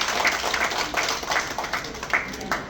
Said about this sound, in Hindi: मैं चाहूंगा इनके लिए एक बार जोरदार तालियां बजाइए।